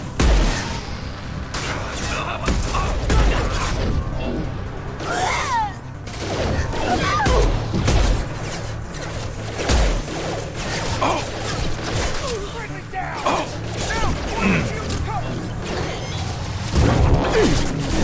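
Dense bursts of gunfire and crashing impacts from a Mass Effect 2 firefight, loud and continuous with heavy low booms, voices calling out over the shooting.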